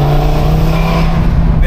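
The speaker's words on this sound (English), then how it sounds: "I don't know if it captures on camera the way the intake sounds" Audi RS3 engine and intake note while driving, a loud, steady droning hum with a strong low tone throughout this short stretch, heard from inside the car.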